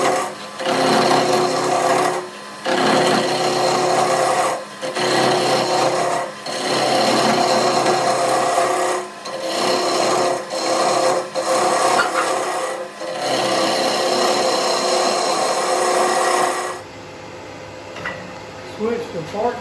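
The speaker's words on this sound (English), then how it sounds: "start turning with 5/8-inch ball gouge" A wooden dowel spinning on a lathe while a 5/8-inch ball gouge cuts it, giving a loud, steady rasping scrape broken by short pauses, then stopping near the end, with no talk over it.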